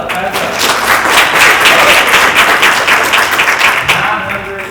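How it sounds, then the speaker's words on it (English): A school board meeting audience breaks into loud, close applause, a dense steady roar of clapping that holds for several seconds before tapering off. "All right, clap it up, clap it"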